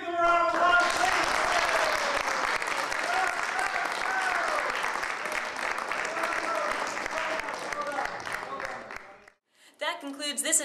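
Sustained applause from an audience at a campus TV program, dense clapping holding steady for several seconds before fading out, followed by a brief burst of speech at the end.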